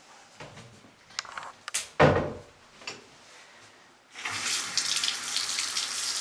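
A few knocks and clicks from a Delta cartridge faucet handle, then water gushes from the tap in a steady, close rush.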